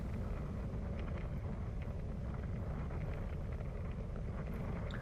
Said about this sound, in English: There's a big headwind down the straight here